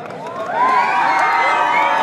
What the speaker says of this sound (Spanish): ¡Fuerte los aplausos para ellos!